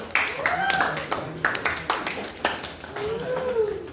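A classroom gives a short burst of scattered clapping for a student group. The claps are irregular and moderately close, and voices talk over them.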